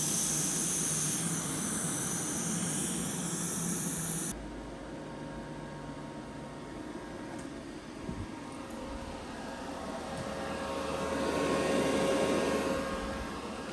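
A torch hisses steadily as a busted vise is heated just before welding, a continuous close roaring rush that drops in level partway through and then swells again, with no talking.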